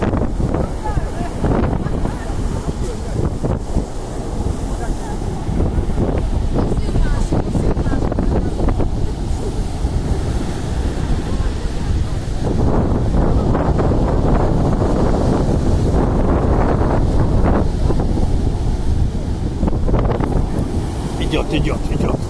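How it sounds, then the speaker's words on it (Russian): Sea waves and strong wind on the Sea of Azov in Crimea during a sudden autumn cold snap, a steady rushing roar with surging wave crashes and gusts buffeting the microphone throughout. "И пошла волна морская."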